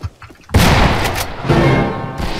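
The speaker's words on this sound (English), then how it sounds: "Oh, that was a shotgun." A shotgun blasts in the Western shooter game Fistful of Frags: one loud, sharp boom with a ringing tail, then a second heavy hit, after a quieter stretch of background noise.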